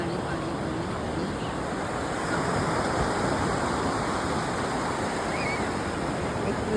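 Sea waves roll in a constant, dense rush of surf where the water meets the horizon, loud and unbroken, with no distinct voice standing out.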